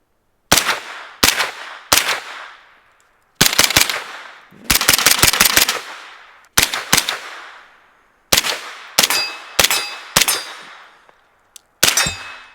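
A KGM SMG 9 submachine gun fires outdoors in loud bursts and single shots, each crack ringing off with a long metallic decay, with pauses between strings of fire and no talking.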